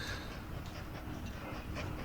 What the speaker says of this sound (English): That's a nice looking train.